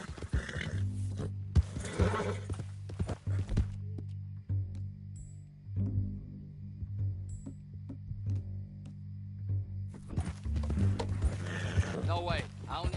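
Horse hooves clip-clop in the Red Dead Redemption 2 video game, an uneven run of hoof falls under stretches of character dialogue and ambient game sound.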